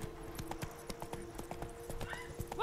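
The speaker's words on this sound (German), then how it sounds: "Wir reiten mal kurz aus in die Stadt." Galloping horse hooves from riding in The Witcher 3: Blood and Wine, a quick, even clip-clop beat that stays close and steady, with a brief louder burst at the very end.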